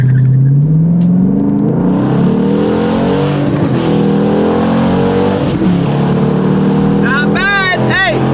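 A stock Dodge Challenger R/T pulls hard at full throttle, its engine climbing loud and close through rising revs with quick shifts, and tire or squeal-like whines near the end.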